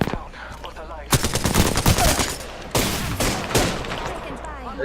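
Video game gunfire in Apex Legends, two bursts of rapid automatic shots, loud and close, separated by a short pause, with faint game ambience between them.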